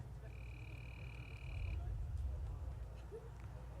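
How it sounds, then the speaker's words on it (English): Frogs croaking at a soccer field after rain has subsided, a steady trilling chorus with a sustained high call over a low rumble of ambient field noise, no talk. "the frogs in the area, if you'll hear those on the broadcast."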